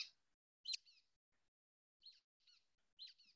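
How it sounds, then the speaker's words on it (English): Recorded calls of a brown-headed nuthatch, a small pine-forest bird: squeaky, toy-like paired chirps repeated about five times in short bursts, clear and isolated against silence. "it sounds like a squeaky toy, but that's the brown-headed nuthatch call"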